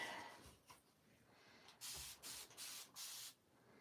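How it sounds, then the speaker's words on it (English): A spray bottle mists water onto a linen quilt in a series of short, soft hisses, four or five quick squirts in a row after a few faint rustles. "Just spraying different areas."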